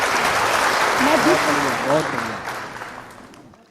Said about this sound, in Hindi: एक बार तालियां उठाइएगा मंच के लिए